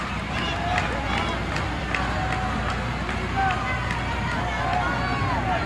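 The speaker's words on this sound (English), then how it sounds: "the crowd here is now getting after Slater, and they are really vocal and noisy" A 1978 Houston wrestling arena crowd yells and jeers at wrestler Dick Slater, a steady roar of shouting voices filling the hall, with a commentator talking over the noise.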